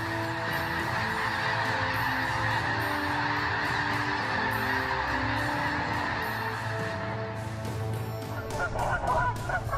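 Canada geese honking continuously as a flock, many overlapping calls layered close and loud for the whole stretch, with no talk over them.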